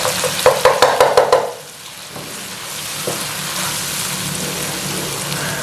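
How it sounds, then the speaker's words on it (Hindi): Cabbage and potato sabzi is stirred in a pan, with a run of quick scraping clacks up front before the cooking settles into a steady, even sizzle. "अच्छे से आप लोग इनको मिक्स कर लीजिएगा।"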